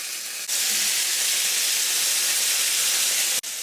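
Chicken thighs sizzle skin-side down in a hot pan, a loud, dense, even frying hiss lasting throughout with no talk.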